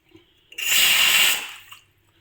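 Cooking water from boiled lentils (dal) being poured out, a brief rushing splash close by that swells, holds for about a second and fades, with no talk over it.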